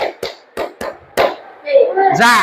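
Hand claps in a classroom clap game, a handful of sharp separate claps in an uneven rhythm, then a voice starts talking at the end.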